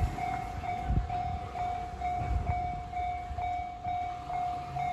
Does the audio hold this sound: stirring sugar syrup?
no